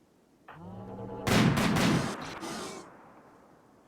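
High-powered gunshots from a RimWorld battle: a dense burst of loud, overlapping shots rises sharply and rolls on as a sustained volley before fading, with a faint hum underneath.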